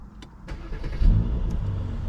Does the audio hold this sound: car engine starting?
yes